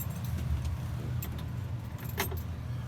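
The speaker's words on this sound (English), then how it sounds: "Once I install my key and turn my key on" Keys jangling as a key is inserted in a CDL class B truck's ignition, a few short metallic clinks close by over a low rumbling vehicle background.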